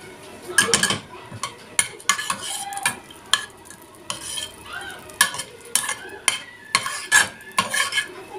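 A spoonful of ghee heats in a frying pan before eggs go in. Busy metal clatter and scraping of a spoon against the pan come in irregular bursts over a light sizzle, close and fairly loud.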